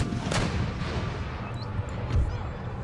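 Empire Total War battle ambience carries a dull, low artillery boom and crackling musket-like reports over a steady rumbling din, moderately loud and somewhat distant.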